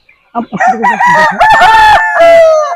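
A desi rooster at a commercial poultry farm crows loudly and close, a long drawn-out call preceded by a few short clucks.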